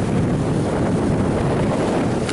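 Strong wind roars steadily over the microphone on a beach walk in Jamaica, a dense continuous rumble with surf mixed in and no voices.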